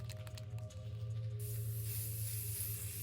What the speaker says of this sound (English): anti-rust spray here